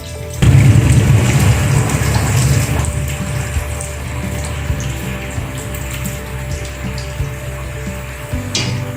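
Hot water from boiled biryani rice pours through a strainer, a loud splashing gush at first that settles into steady trickling and dripping, with faint clinks of the vessel near the end.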